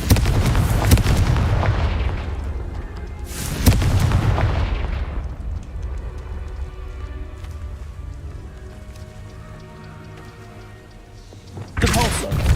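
A blasting spell explodes in a Hogwarts Legacy battle, with loud booming bursts at the start, a second blast about a third of the way in, a fading rumble and crackle, and another burst near the end.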